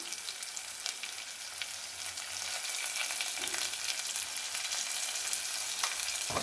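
Onions and curry leaves fry in a pan for chicken thokku, a steady dense sizzle that holds close and even throughout, with no talking.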